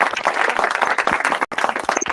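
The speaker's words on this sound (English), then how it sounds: "Big round of applause, please." Applause from a lecture audience on software management and machine intelligence, with dense overlapping clapping held steady for about two seconds and a brief dropout near the middle.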